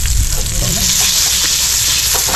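Butter sizzling and frying hard in a hot pan, a loud, steady crackle running the whole time with some stirring clatter mixed in.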